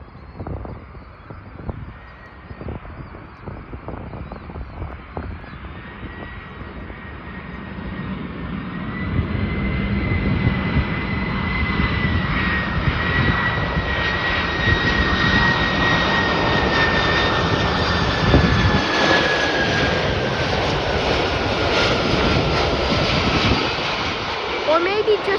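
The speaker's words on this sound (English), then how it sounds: "got a Boeing 747-446 BCF Kalita Air cargo, Kalita Air, arriving in from Anchorage" A Boeing 747-446 BCF Kalitta Air cargo jet arriving from Anchorage lands at Chicago O'Hare with a loud, sustained jet roar that builds and holds steady, joined by a rising engine whine, with no talk over it.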